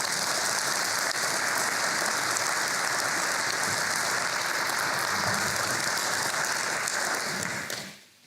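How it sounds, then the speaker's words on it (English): Warm applause from a conference audience at an opening ceremony, honoring partner organizations such as the Organization of American States and the World Bank; steady dense clapping sustained throughout, then fading away at the very end. "May I please have your warm applause for our partners."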